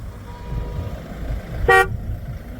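A single short car horn toot rings out from a wedding procession's line of cars, standing clearly above a steady low rumble of road and engine noise.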